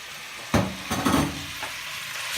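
Ground beef added to golden fried onions in a pan, sizzling softly at close range, with a few stirring scrapes and clatters against the pan and no talk.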